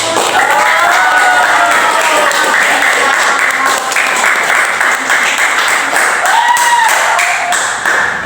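Loud classroom applause from pupils in an Islamic religious education lesson, steady dense clapping throughout with a few children's voices calling out over it.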